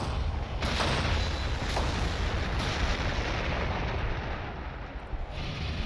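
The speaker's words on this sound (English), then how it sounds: "I want you to fire at that battle wagon" Heavy bolter fire and explosions from the Warhammer 40K Gladius Relics of War strategy game, a dense, booming run of gunfire and blasts rolling on continuously without talk.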